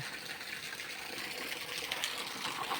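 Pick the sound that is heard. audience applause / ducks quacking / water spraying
water spraying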